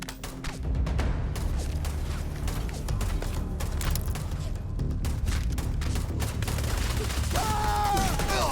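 Rapid bursts of gunfire in the video game Starfield, loud dense volleys continuing throughout with booms and mechanical clanks, ending with a whining electronic sweep.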